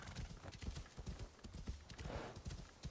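Horse hooves gallop in Assassin's Creed Shadows, a quick, rhythmic clip-clop of steady footfalls close by, with faint whinnying and ambient game sound underneath.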